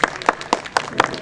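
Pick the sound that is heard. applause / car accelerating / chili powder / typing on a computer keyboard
applause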